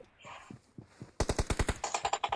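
Machine gun fire in the video game BGMI, a loud, rapid burst of about a dozen evenly spaced shots following a quieter stretch of low rumbling game noise.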